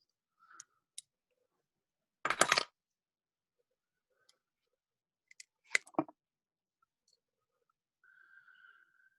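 A couple of short, crisp snips of scissors cutting fly-tying thread, the loudest a quick burst of closely spaced cuts, in an otherwise quiet setting with a faint whistle-like tone near the end.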